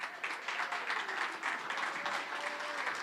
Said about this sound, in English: Julie, please give her a round of applause.